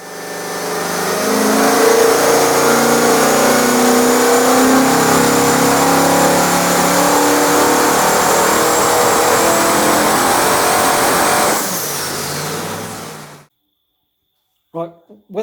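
High-horsepower HRE engine running up on a dyno, a loud sustained roar at high revs with a rising whine that holds for several seconds, then cuts off abruptly into quiet with a brief voice.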